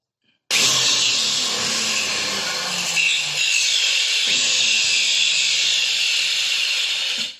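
PVC pipe being cut to make a quail call: a loud, steady, close-up grinding whine that starts abruptly and runs unbroken for about seven seconds, with no voices.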